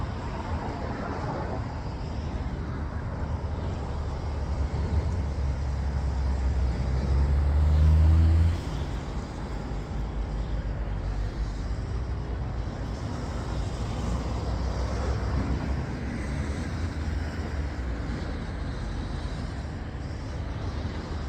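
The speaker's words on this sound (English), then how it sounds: "Very busy roundabout." Traffic circulates around a very busy multi-lane roundabout, a continuous low rumble of car engines and tyres with a heavier vehicle swelling past midway, heard steadily from close by.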